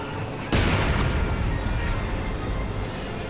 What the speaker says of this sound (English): one thing to remember about the SU-76 is it does have a high rate of fire